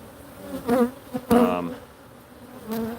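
Honeybees buzzing around an open hive during an inspection, a steady drone broken by a few louder swells as individual bees fly close past.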